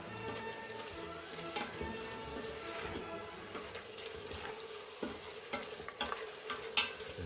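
Beef and bean chili stirred in an Instant Pot, a spoon scraping and sloshing through the thick mixture in uneven strokes with small clinks against the pot, close and alone without speech.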